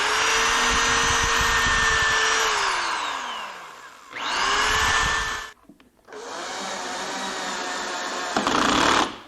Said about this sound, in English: Go ahead and pre-drill the holes before installing the screws.